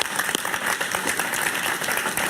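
Studio audience applauds a guest on a Spanish-language talk show, a steady, dense wash of clapping that holds at an even level throughout the short burst.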